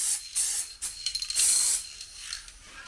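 Spray paint is applied as a coat on a Nissan Micra, a series of close, sharp hissing bursts of varying length with short pauses between them.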